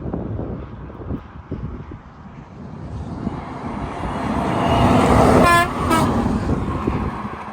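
Freightliner semi trucks on the I-10 sound their air horns in a blaring blast over the roar of passing highway traffic. Engine and road noise build as the trucks approach, and the horn peaks loudly before fading.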